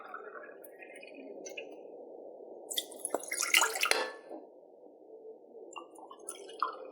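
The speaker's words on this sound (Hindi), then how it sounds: "2 कप पानी इसमें हम डालेंगे।" Two cups of water pour into a cooking pot, a soft splashing stream that swells to a brighter gush midway, with scattered drips before and after in a quiet room.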